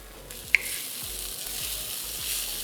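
Soaked poha is sprinkled into a frying pan with spices, producing a close, steady hiss of sizzling oil with one sharp tap early on and soft repeated low thumps beneath.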